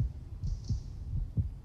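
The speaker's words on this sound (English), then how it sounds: "I'm hearing a heartbeat." Steady, muffled heartbeat thumps pulse at an even rhythm in the video game Jurassic World Aftermath, quiet and low with a faint hum behind them and no talking.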